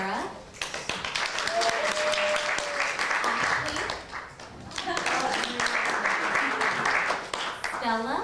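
Audience applauding volunteers at an event, sustained crowd clapping with a short dip midway, while a voice speaks over the clapping at times.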